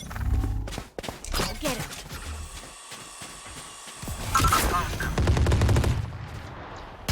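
Rapid machine gun bursts from the Valorant shooter game, loud, dense volleys at the start and again toward the end, with scattered single shots and gameplay effects between them.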